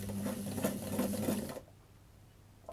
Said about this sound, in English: We're going to do a straight stitch backwards and forwards.